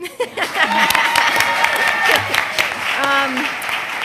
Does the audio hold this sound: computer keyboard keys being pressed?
no